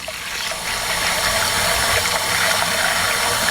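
Rinse water from washed rice pouring out as it drains, a steady gushing wash that builds slightly and holds constant, close and fairly loud, with no talking.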